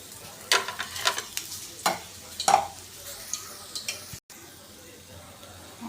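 Fish coated in masala sizzles in a frying pan, broken by a series of sharp scraping and clinking stirs about every half second, followed by a brief dropout and softer frying.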